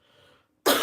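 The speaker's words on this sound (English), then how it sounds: "I'm getting ready to cough again." A single short, sharp cough bursts out at the end after a brief faint sound and a moment of quiet.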